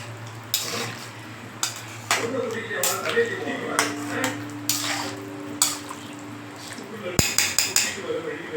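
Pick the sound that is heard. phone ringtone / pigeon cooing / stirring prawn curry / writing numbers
stirring prawn curry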